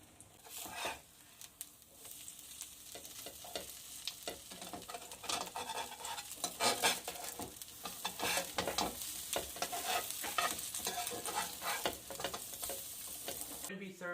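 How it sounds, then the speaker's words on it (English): Vegetarian fritters fry in cooking oil over low heat, giving a soft, steady sizzle with crackling pops and occasional stirring scrapes, fairly quiet and close. "we have to make sure that we cook the fritters on a slow heat, low heat."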